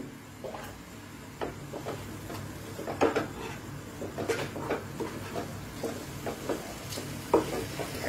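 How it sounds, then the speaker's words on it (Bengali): Spice masala is stir-fried in a pan over a soft background sizzle, with repeated scraping strokes of a spatula and a few sharper knocks against the pan, close and moderately loud. "এবার মশলাটাকে ভালো করে কষিয়ে নেব।"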